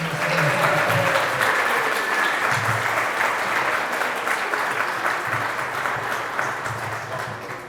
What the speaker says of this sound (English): we were going to have a nice big round of applause for our